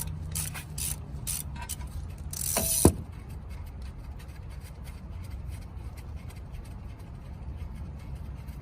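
Ratchet wrench tightening a brake caliper bolt on a 2009-2014 Honda Insight Hybrid, a few quick close clicking strokes ending in a sharp metallic snap, followed by quiet background.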